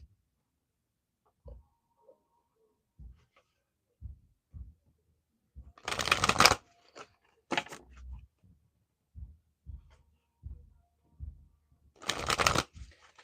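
Oracle cards being shuffled nearby in quiet bursts, two longer riffling runs separated by scattered light taps and handling clicks, with no talk.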